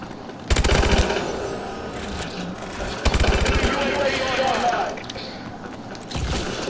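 Bursts of rapid automatic gunfire from Call of Duty: Advanced Warfare with the KF5 come in short repeated volleys among other game sounds, while a player talks over the action.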